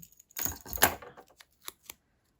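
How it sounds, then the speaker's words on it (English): Scissors trimming excess patterned paper from a handmade greeting card: a short burst of snipping and paper rustle, then a few quieter clicks, close and fairly faint. "so I'm just going to cut that bit off"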